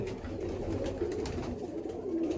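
Pigeons in a loft coo in a continuous low, warbling chorus, near and steady, with faint rustling above and no talking.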